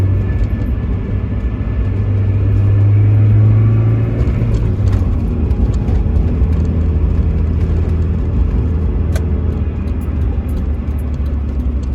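A 1989 Mazda MX-5 drives along a winding coastal road, with a steady loud engine drone and road and wind rumble from inside the car, rising slightly in pitch at one point and holding steady throughout.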